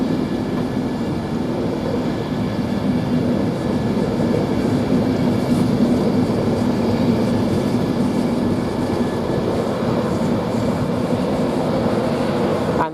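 An LNER InterCity 225 set with a Class 82 driving van trailer at the front rolls through Doncaster station, producing a loud, sustained rumble and rail roar close by, with no break for the whole passage.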